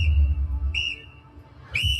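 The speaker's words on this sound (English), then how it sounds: "I always bring a whistle with me when you hear 3 short blasts like this." Three sharp, high whistle blasts ring out, the first longer, with short gaps between them over low rumbling background noise.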